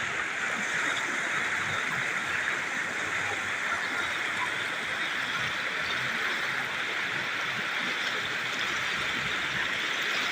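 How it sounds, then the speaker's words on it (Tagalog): Water flows steadily at a clear public resort pool, a constant rushing wash that stays even and unbroken throughout. "Current ng tubig."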